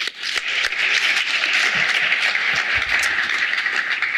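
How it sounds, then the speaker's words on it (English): A conference audience at a session on eco-industrial park tools gives sustained applause, a dense, even roar of many hands that stays loud for the whole stretch with no talking. "we give a big round of applause"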